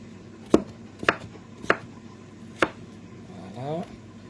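A knife chops food on a cutting board with four sharp, close thuds at uneven intervals, followed by a brief quieter scraping sound.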